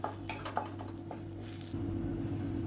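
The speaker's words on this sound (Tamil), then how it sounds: "பூண்டு நல்லா வறுபட ஆரம்பிக்கையில் சின்ன நெல்லிக்காய் சைஸுக்கு புளி சேர்த்துக்கலாம்" Garlic fries quietly in a pan, a soft sizzle broken by light clinks and scrapes of stirring over a low steady hum.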